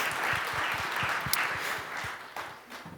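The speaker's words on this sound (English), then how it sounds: "So, give a round of applause." An audience at a keynote panel applauds steadily for about three seconds, a dense, even patter of many hands that eases slightly toward the end.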